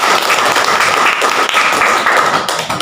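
Audience applause following a speech, dense, loud, even clapping with scattered taps and thumps, sustained without pause for about three seconds.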